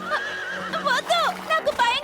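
A cartoon horse named Chetak whinnies in several bright, rising and falling bursts, close and loud, with a voice-like quality that may be an actor imitating the neigh.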